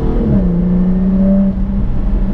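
A Jaguar F-Type with its exhaust valves opened revs loudly up close, a deep steady engine drone that rises briefly and then settles, heard alone without talk.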